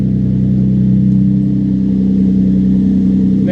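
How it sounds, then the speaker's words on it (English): A Nissan 350Z engine runs loud and close, a steady low droning rumble with an even throb that holds without change for several seconds and no voices over it. "I don't know if the startup of this car has ever been on"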